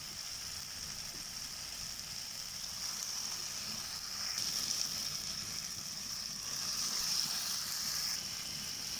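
Washed chicken pieces go into frying masala, giving a faint, even sizzle and hiss that swells slightly partway through, with no one talking.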